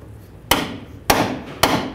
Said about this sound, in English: continue with our hammer and a pickle fork